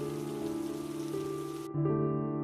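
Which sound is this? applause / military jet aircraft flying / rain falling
rain falling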